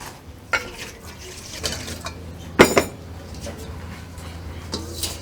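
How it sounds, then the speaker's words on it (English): A cooking pot is rinsed out with water in a Guyanese kitchen at Christmas, with splashing and sharp metallic clanks of the pot, close and moderately loud. "what we're gonna do now is basically wash out the pot there"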